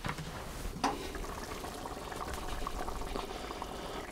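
Venison goulash simmering in a cast-iron Dutch oven, giving a steady close bubbling and soft sputtering texture with one brief louder clink early on, no voices.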